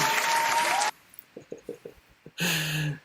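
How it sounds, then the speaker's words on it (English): Audience applause at a live kaiju-themed show breaks out in a loud, dense burst, pauses briefly for a few scattered voices, then returns in a second full burst. "Give y'all a round of applause."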